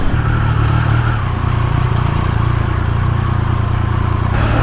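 Triumph Speed Triple 1200 RS motorcycle being ridden, its engine a steady close drone with some wind noise and no speech, shifting character near the end.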